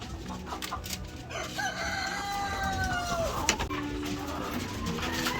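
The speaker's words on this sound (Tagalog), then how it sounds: "Ito yung mga itlog dito sa ilalim ng kulungan natin. Yan, yung mga manok na yan." A rooster crows clearly among chickens clucking in a farm coop housing black australorp and white leghorn birds, with steady background bird noise throughout.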